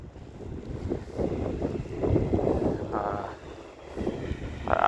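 Wind during a Boston blizzard, blowing loud and close as a rough, gusting roar that buffets the microphone, swelling and easing over a few seconds.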